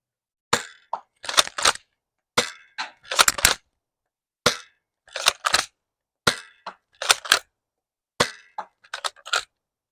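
An 1887 lever action toy dart blaster fires a series of sharp, snappy pops in uneven clusters, each shot mixed with quick clacks from the lever cycling, close and loud with no talking.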